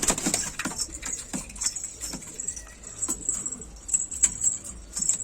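Domestic pigeons coo softly and steadily nearby, with scattered sharp flutters and clicks of wings and feet throughout, and no voices.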